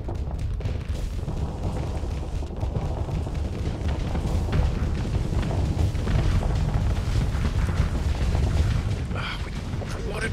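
Torpedo explosions in the Starsector space game, heard as low rumbling booms and a continuous heavy roar that stays dense and fairly loud throughout.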